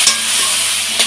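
Onions frying in a pan with curry leaves and garlic for an egg and brinjal masala curry, a steady close sizzle with light stirring scrapes and a couple of brief louder clinks.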